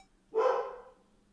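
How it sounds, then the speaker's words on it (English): A puppy lets out a single loud, close bark, short and sharp against a quiet background. "So puppy's going to be pretty loud."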